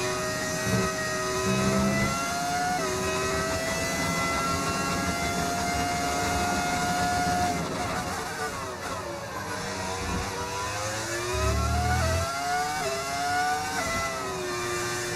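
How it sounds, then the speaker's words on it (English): A modded car engine in the F1 25 racing game whines steadily at high revs, its pitch climbing through upshifts and dipping on downshifts over a continuous, fairly loud drone, with no talking. "How do you do the engine sound? It's a mod that you can find on Overtake."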